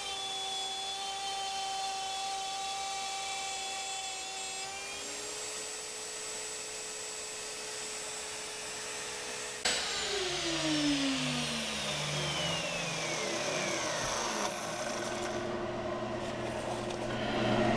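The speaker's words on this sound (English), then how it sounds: "I've got my 1/4 inch flat bit in there and I'm ready to cut out the profile." A CNC router with a 1/4 inch flat bit cuts a carved wooden profile, making a continuous high-pitched spindle whine with a grinding cutting noise that shifts and grows slightly louder partway through, with no talking.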